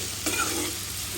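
Small kachki fish fry in hot oil in a pan, a soft, steady sizzle with a brief stirring scrape near the start, faint and close.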